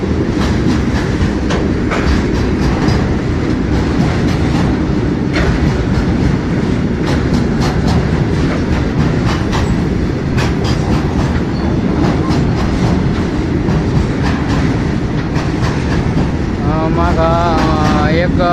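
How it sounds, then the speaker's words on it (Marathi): A long freight train of oil tanker wagons rolls steadily past nearby, a continuous heavy rumble with rhythmic clickety-clack of wheels over rail joints and a faint wheel squeal near the end. "टँकरची ट्रेन आहे टँकर घेऊन चाललेली आहे पूर्ण तेलाचे टँकर आहे"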